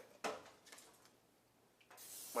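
A few short hissing sprays of cooking spray from an aerosol can onto a sheet pan, separated by quiet gaps, close by.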